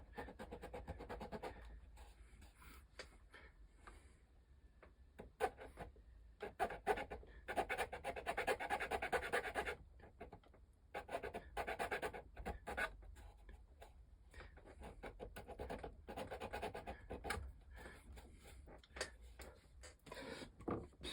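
A hand file rasps against a small wooden part of a 1:84 Artesania Latina Santisima Trinidad ship model in irregular close bursts of dry scratching strokes with short pauses between them.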